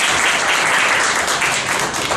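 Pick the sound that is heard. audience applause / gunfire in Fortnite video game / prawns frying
audience applause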